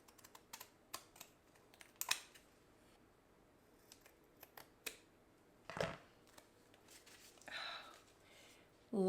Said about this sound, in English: I'm just going to turn this over and cut this edge off.